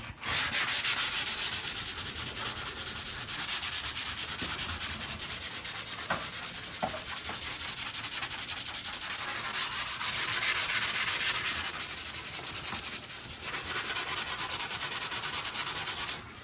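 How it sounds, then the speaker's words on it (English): Sandpaper rubs the cured filler along the edges of a chip in a bathtub, a continuous close gritty scraping with a steady back-and-forth rhythm and no talk. "Sand it off on the edges."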